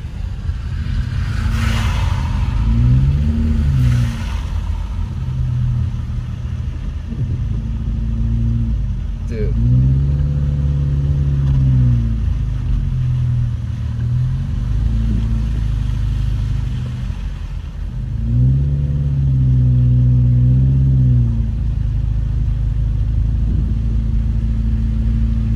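A car drives slowly through falling snow at Big Bear Lake, California, its engine humming steadily with a few rises in revs across the stretch; no one talks over it.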